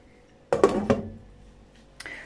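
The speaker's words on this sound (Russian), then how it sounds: "сейчас осталось помыть сковородку" A frying pan being washed in a home kitchen, with a few sharp metallic clanks and clinks close by, two quick knocks followed by a later single clatter, against a quiet background.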